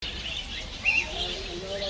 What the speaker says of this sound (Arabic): تعجب أصوات عصافير الطيور على طول